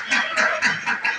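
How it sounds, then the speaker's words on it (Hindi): Domestic ducks kept with chickens in a backyard poultry yard give a run of loud, nasal honking calls, about five in quick succession, close to the microphone with no talk over them. "और हमारी डक्स की भी आवाज़ आप लोगों को आ रही होगी"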